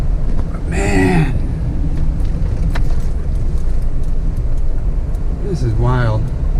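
A Jeep Wrangler JK Rubicon driving through flooded streets, with a loud continuous engine and road rumble, water wash throughout, and brief voice-like tonal bursts near the start and end.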